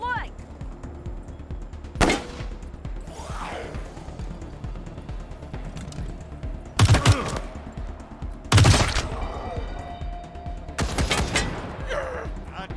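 Gunfire in the video game Wasteland 3: several sharp, loud bursts of shots stand out at intervals over a steady bed of background game ambience.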